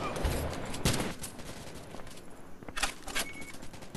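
Gunfire from a SCAR rifle in the mobile shooter Modern Strike Online, with a few sharp bursts of shots close by, separated by short pauses and scattered bangs.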